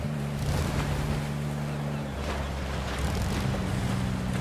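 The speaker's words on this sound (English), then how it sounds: "Hold on, I'm pushing the throttle." A boat engine throttling up in the video game Love and Deepspace, a steady droning hum over rushing water and wind noise, with the engine tone shifting partway through.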